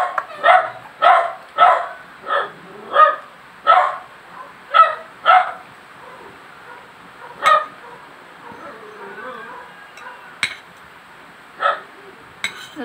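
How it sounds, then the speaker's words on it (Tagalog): A dog barking in a rapid string of about ten sharp barks, close and fairly loud, then a few scattered barks after a quieter stretch; little distinct howling is evident. "At naatungal yung asong yan."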